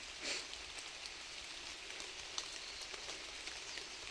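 Steady rain hisses broadly all around under a tree-covered outdoor spot, with a faint patter of drops and one small tap partway through; no one speaks.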